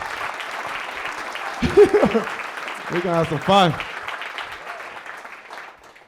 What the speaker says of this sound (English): So give yourself a round of applause one time.